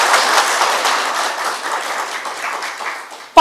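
A crowd at a political rally in Nepal applauds steadily, a dense wash of many hands clapping that fades slightly toward the end.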